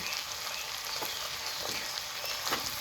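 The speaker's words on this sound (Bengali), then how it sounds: "ধুয়ে রাখা চিংড়ি মাছ এবার দিয়ে দিব তাওয়ার উপরে হলুদ গুঁড়া সামান্য নুন" Washed shrimp frying in a pan with turmeric and a little salt, a steady close sizzle with soft crackles and small stirring bursts throughout.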